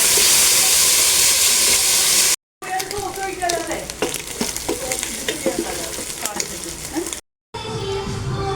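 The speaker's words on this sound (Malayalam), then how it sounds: "ഞാൻ 2 ട്രിപ്പായിട്ടാണ് ഇത് പൊരിച്ചെടുക്കാൻ പോകുന്നത്." Prawns frying in coconut oil with curry leaves, a loud, steady close sizzle and crackle with scattered pops, broken by two brief silent cuts.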